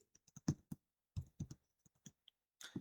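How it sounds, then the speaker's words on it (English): Typing on a computer keyboard to enter a number into a spreadsheet: a short irregular burst of close, crisp key clicks with brief pauses between groups. "we will type 300 in cell D26"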